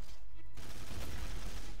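Gunfire in the sandbox game Garry's Mod, a loud burst of shots hitting after a brief lull and rattling on as a dense, close volley with no talk over it.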